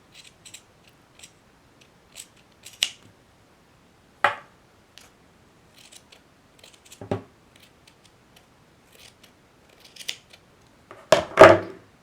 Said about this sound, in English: So now I can go ahead and trim off this extra fabric.